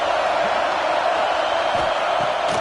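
A football stadium crowd roaring on fourth down, a dense, sustained wall of cheering and noise with no breaks, loud and distant-sounding as a single mass.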